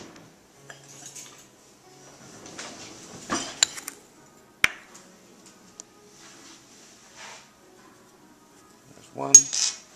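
Metal measuring spoons clink and tap while salt is measured out for pizza dough, a few scattered bright clicks and rattles between quiet gaps, close and fairly soft.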